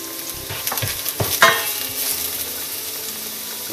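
Garlic and ginger hit hot oil in a frying pan for a cauliflower paratha stuffing, a bright sizzle with a brief burst of clattering and crackling early on, settling into a steady fry.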